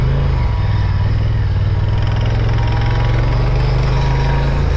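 A Honda Africa Twin motorcycle's engine drones loud and steady with a strong low hum while the heavy bike, fitted with panniers, rides along, and no one speaks.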